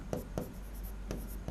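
Pen writing by hand on paper, with a few quick scratchy strokes spaced apart over steady low background hum.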